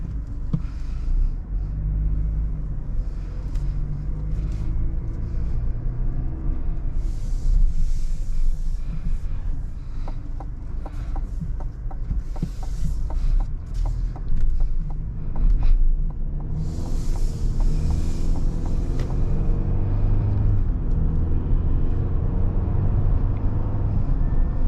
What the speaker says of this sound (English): driving this 2022 Chevy Silverado, this thing drives nice and smooth, very comfortable